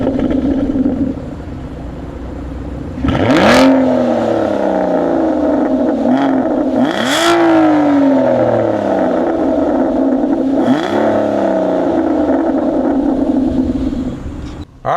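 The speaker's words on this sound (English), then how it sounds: "Let's give this thing a start up and see what the V12 sounds like." The V12 of an Aston Martin Vanquish Zagato Shooting Brake settles into a loud, close idle, then gets three sharp revs that rise and fall back, each spaced a few seconds apart.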